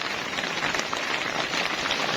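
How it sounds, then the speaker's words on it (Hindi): Steady rain falls on a hill road near Nathia Gali amid low cloud, a dense, even hiss that stays constant and fairly loud throughout, with no voices. "ये देखिए सड़क के ऊपर बादल जमा हुए हैं और बारिश भी हो रही है"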